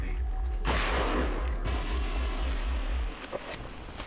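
Two heavy shotgun blasts from the video game Eternal Darkness, with a loud booming report and a long rumbling tail that cuts off near the end, over a constant low electrical hum.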